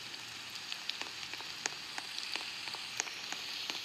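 Steady rain falling in a video game, a soft, even hiss dotted with small scattered drop taps, quiet and continuous with no voices.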